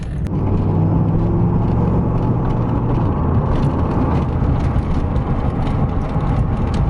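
A 1987 Pontiac Trans Am GTA on the road, heard from inside as a loud, steady engine and road rumble with tire whir, a low engine tone settling early, and no talking.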